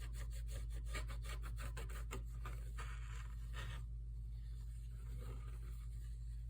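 Dull blade cutting through material with a quick series of rhythmic rasping strokes, then slower, longer scraping drags, close and faint over a low steady hum.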